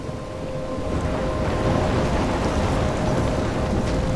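A loud, continuous roar of heavy rain and wind from a storm in the game Life Is Strange, with a low rumble of thunder beneath it and no talking.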